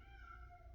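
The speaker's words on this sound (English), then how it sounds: "Oh, if you hear that cat, I am so sorry." A pet cat meows to be let outside in the morning, one faint, drawn-out wavering cry heard indoors at a distance.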